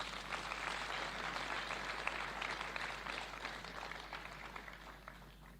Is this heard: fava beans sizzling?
no